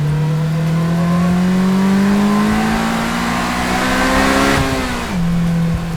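On a Polaris Slingshot R, gear whine rises steadily over a loud, climbing engine as it accelerates, then drops sharply at a shift near the end, heard up close without speech.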